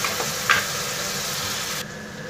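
Spices and garlic paste fry over a low flame in a pan for chicken masala, giving a steady, close sizzle with a faint stirring knock and no talking.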